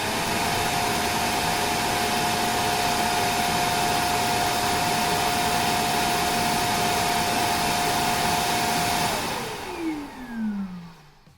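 A DreameBot D10 Plus robot vacuum's base station empties the dustbin with a loud, steady whine and high-pitched tone for about nine seconds, then winds down in a falling pitch before stopping.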